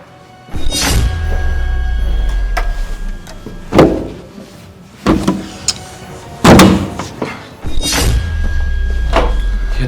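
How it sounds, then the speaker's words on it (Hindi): An officer's team forces open a jammed house door, giving several heavy thuds and bangs spaced through the scene, with rattling and knocking between the louder impacts. "ये दरवाजा खुल गया।"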